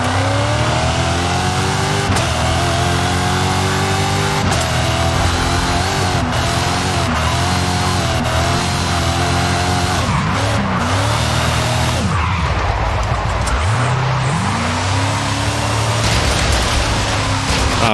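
Car engine revving hard and tires skidding while drifting off-road in Forza Horizon 5, loud and continuous with rising and falling engine pitch and repeated squealing slides throughout.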